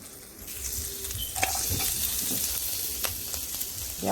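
About two tablespoons of garlic fry in a little oil in a pan for lasagna, a steady close sizzle with a few stirring scrapes and clinks.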